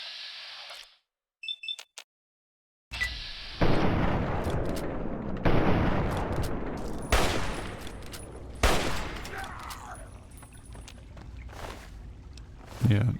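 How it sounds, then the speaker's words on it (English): Hunting rifle shots in Fallout 3 ring out in a series of loud, sharp cracks a second or two apart, each trailing off, with a brief quiet stretch before the firing starts. "Hunting rifle, time to do some damage."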